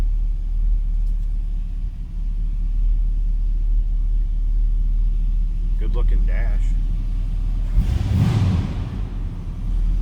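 A 1949 Chevrolet 3100 pickup truck engine idles with a low, steady rumble throughout, close and even, while someone speaks briefly over it and a whooshing gust passes near the end.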